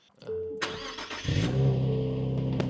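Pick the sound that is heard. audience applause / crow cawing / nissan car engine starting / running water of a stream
nissan car engine starting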